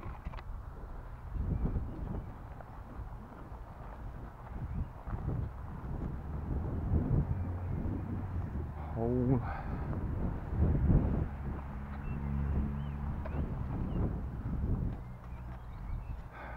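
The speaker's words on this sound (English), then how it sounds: "Wind's actually coming from that direction, so let's try launching windward." Wind blows outdoors through a steady broadband rumble at a field where pizza-tray catapult gliders are launched, with buffeting gusts on the microphone and a few faint tonal flickers; no one talks.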